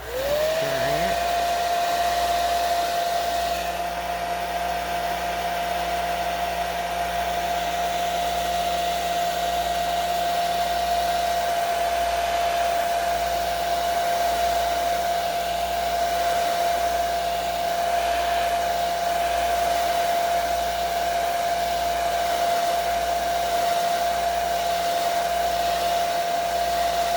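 A hair dryer blows steadily on an alcohol ink painting of a hummingbird, a loud continuous whine and rush that starts abruptly and holds an even pitch throughout, with no talking.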